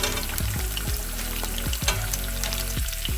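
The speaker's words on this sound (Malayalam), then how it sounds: "ഇനി നമുക്ക് നമ്മുടെ കരിയാപ്പലയും പച്ചമുളക് കൂടെ" Curry leaves and green chillies frying in hot oil for a mulberry pickle give a loud, steady sizzle, broken by a few sharp stirring scrapes and clinks.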